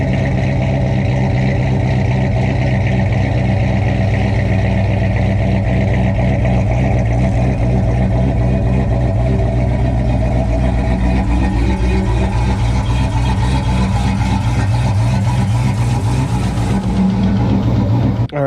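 A Ford F-150 pickup engine, one of the 2015–2022 trucks, cranks over and settles into a steady, loud idle that runs on close by without a break and with no one talking.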